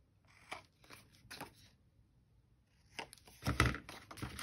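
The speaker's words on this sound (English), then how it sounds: "Scissors." Scissors cutting book pages for a paper craft project; a few quiet snips and crisp paper rustles, with a pause midway and a louder burst of cuts near the end.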